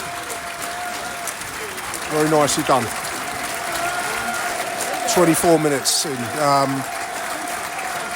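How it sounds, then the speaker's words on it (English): Stadium crowd at a Millwall versus Coventry City football match applauding steadily in a continuous broad roar, while a nearby commentator talks over it in short bursts. "There's a round of applause for Bailey Bell on the big screen."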